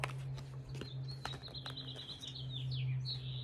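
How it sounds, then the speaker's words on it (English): Several birds chirp and tweet in quick, high bursts over a steady low hum, fairly close and continuous throughout. "Listen to those birds in the now"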